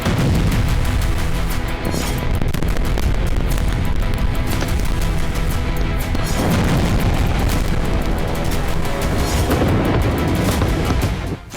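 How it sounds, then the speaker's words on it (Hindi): Explosions from an Israeli air strike on southern Lebanon, a loud, dense wall of heavy booms and rumbling blasts that carries on without a break. "आईडीएफ ने दक्षिणी लेबनान पर पहला हवाई हमला किया।"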